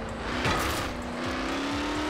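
A car in Forza Horizon 4 drives close by with a steady engine drone whose pitch climbs slowly as it accelerates, joined by a brief tire scrub near the start.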